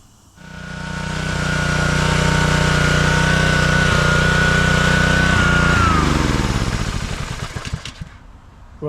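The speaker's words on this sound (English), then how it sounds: "got the choke working properly now. I ran it up again" Small gasoline engine on a pressure washer, newly repaired choke, runs up to a steady loud drone with a high whine, holds for several seconds, then winds down and sputters to a stop near the end; no talking.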